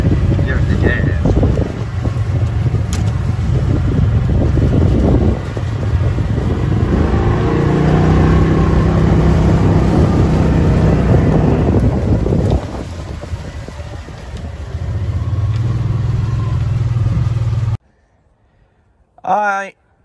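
Kawasaki Mule 4010 EPS utility vehicle driving at full throttle on a bumpy track, a steady loud engine drone mixed with heavy wind buffeting on the microphone for most of the run, cutting out abruptly near the end.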